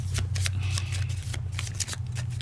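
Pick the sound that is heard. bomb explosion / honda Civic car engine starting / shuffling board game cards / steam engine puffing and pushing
shuffling board game cards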